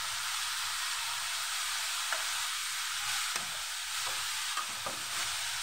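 Pork steak frying in a pan and being stirred, with a steady bright sizzle throughout and a few soft scraping clicks of the utensil against the pan.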